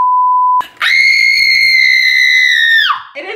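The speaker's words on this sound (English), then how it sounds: "if you scream in a really high pitched frequency, you can break a glass using your voice" A loud, sustained high-pitched human scream aimed at breaking a drinking glass follows a brief censor-style beep, holding steady for about two seconds before dropping off, with a short muffled reaction at the end.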